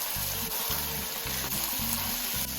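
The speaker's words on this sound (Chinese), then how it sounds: "加入罐装的西红柿酱。 翻炒个1-2分钟，再加入罐装的碎西红柿" Canned tomato sauce being stir-fried for a beef lasagna filling, a soft continuous sizzle with a rhythmic series of spatula scrapes against the pan, fairly quiet and close, no voices.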